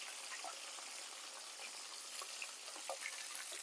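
Chopped onion, curry leaves, green chilli and small-cut potato sizzle steadily in a hot pan of oil, a soft continuous frying hiss with faint crackles and pops, close and quiet.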